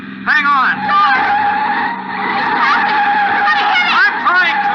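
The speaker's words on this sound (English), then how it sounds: "I'm going to pull to one side, slam on the brakes, and see what happens." An old radio drama car brakes hard with squealing, skidding tires, loud repeated screeches over a steady engine drone, with a voice talking under the noise.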